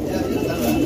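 Pigeons kept in separate wire cages in a Lucknow loft coo and shuffle in a low, steady murmur, with a voice talking over them.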